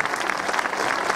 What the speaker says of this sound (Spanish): Aplauso para Aria.